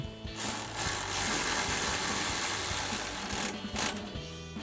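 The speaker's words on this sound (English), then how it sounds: "And we'll tighten that down with our 10mm socket." A ratchet with a 10mm socket tightens a bolt on a 2005-2014 Mustang front brake strut bracket, a loud, close run of rapid clicking in a steady burst, then a few final clicks.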